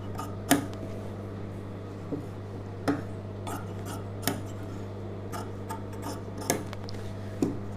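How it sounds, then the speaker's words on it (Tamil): Scissors trimming extra lining fabric for a star-neck churidar, a series of sharp, separate snips spaced a second or so apart, close and fairly faint over a low steady hum. "இந்தளவு இப்போ இந்த எக்ஸ்ட்ரா இருக்க லைனிங் வந்து கட் பண்ணிக்கலாம்"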